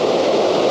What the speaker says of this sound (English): Yeah, it's a small, but it is waterfall.